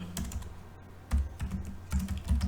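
Typing on a computer keyboard, a quick run of close, soft key clicks with a few heavier keystrokes, no voices.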